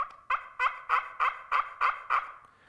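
A push-pull turkey call imitates a hen turkey's yelp: seven evenly spaced, raspy, close-up yelps in a steady rhythm, loud and alone with no talk.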